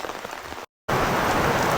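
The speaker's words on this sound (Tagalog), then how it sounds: "Grabe, ang lakas ng ulan." Heavy rain pouring on a farm, a dense steady hiss that briefly drops to silence and then returns even louder and fuller.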